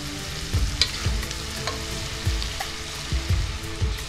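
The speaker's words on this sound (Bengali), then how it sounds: "পেঁয়াজটা একটু লাল করে ভেজে নেব।" Chopped onions fry in hot oil in a pan for Bengali mutton kosha, giving a steady close sizzle with repeated scraping stirs every half second or so.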